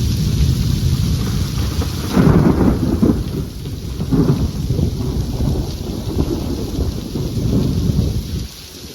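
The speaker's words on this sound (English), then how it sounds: "That was almost a perfect storm too, because I mean, like, it was pretty quick, lots of lightning." A fast-moving thunderstorm full of lightning brings loud rolling thunder over steady heavy rain, with wind buffeting the microphone and several swelling rumbles across the stretch before it quiets at the end.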